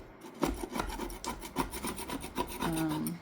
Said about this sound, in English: So I'm going to use that metal tool. Hopefully it'll scrape off.